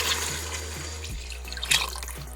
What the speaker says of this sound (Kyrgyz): 1 литр суу куябыз